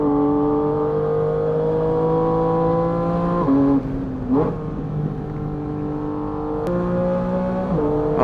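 A Porsche GT4 RS races on track at Circuit of the Americas, its engine a loud, sustained close-up howl that drops abruptly on two upshifts before climbing again, with no talking.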